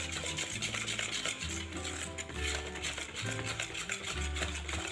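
Egg batter for crispy fried bananas is whisked in a bowl, giving repeated scraping and swishing strokes in a steady, close rhythm.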